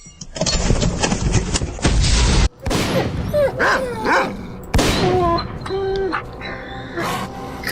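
Dog barking and yipping in the S.T.A.L.K.E.R.: Call of Pripyat video game, a run of loud, close barks and whines over dense game noise, with a sharp break partway through.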